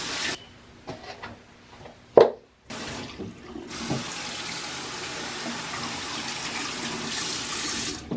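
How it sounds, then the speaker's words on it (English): Tap water rinsing film developing equipment in a sink, a close running stream broken by short splashes and a sharp clatter, then steady flow through the rest. "you're gonna need to rinse out the whole equipment you just used for developer."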